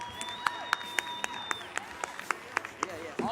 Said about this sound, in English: just give ourselves a round of applause for that alone